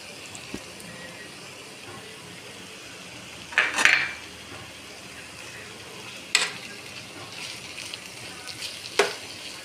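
Yogurt added to a hot pan of vegetable biryani, with a steady close frying sizzle, a louder burst of sputtering as it goes in, and a few sharp spoon knocks against the pan.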